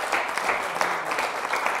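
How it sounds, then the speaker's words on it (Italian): A studio audience applauds on an Italian television variety show, a dense, steady wash of many hands clapping at once that holds fairly loud for about two seconds with no break. "Fatevi un applauso."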